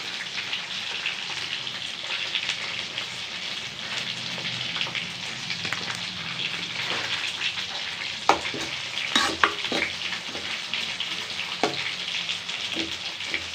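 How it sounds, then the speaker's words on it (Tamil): Spices being fried and mixed in oil in a pan, heard as a soft continuous sizzle with occasional sharper clicks from a stirring utensil, and no talking. "இப்போ இது ரெண்டுத்தையும் நல்லா மிக்ஸ் பண்ணிக்குவோம் எண்ணெயிலே"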